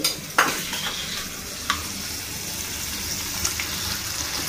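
Mint leaves and soaked tamarind frying together in a pan for mint chutney: a steady, close sizzle with occasional sharper stirring scrapes and clinks against the pan, continuous throughout.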